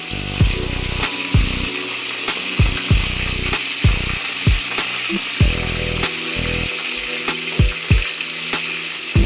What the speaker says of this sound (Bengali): ভালো করে কই মাছটা একটু ভাজবেন।